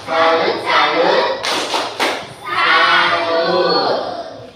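A classroom group performs a rhythmic 'tepuk salut' clap chant for presenting group 1. Loud, close claps land in short patterned bursts, mixed with chanted voices.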